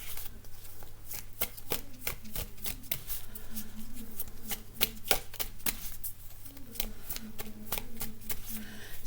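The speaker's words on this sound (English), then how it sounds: "So I'm just going to pull a couple of more cards here to end the reading." Tarot cards are shuffled and pulled by hand, making a steady run of crisp riffling and light slapping clicks close to the listener. Nobody speaks.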